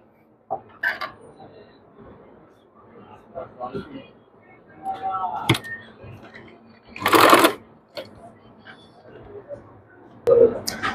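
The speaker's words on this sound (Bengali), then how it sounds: "এই সাইডটাকে আমি সম্পূর্ণ আমি সেলাই দিয়ে জয়েন দিয়ে নেব।" A sewing machine stitches fabric for a baby frock in short separate bursts, the loudest near the middle and at the end, with a person speaking quietly between the runs.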